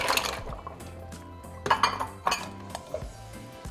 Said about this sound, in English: after 15 minutes, I'm going to be adding 1 pound of mussels